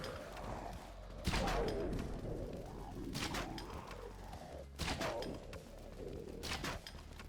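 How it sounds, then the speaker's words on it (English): Harpoon gun firing in the Dead Frontier video game, with three sharp, loud broadband shots at spaced intervals over continuous game background noise. "So I have the harpoon gun on. 2 shots for the multiple armed"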